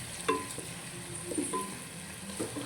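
Onions frying in a pan, a steady sizzle broken by a few clinks of a spoon or spatula against the pan, moderately loud and close with no talking.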